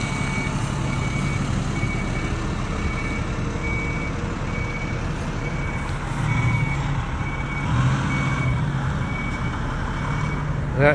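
A fire truck reversing on a snowy winter city street at twilight in Côte-des-Neiges, Montreal, its steady reversing beeps repeating over a loud idling engine and traffic rumble.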